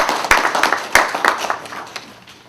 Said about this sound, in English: Give yourselves a round of applause for this.